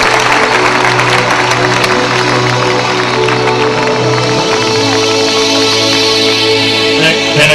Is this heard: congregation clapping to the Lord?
yes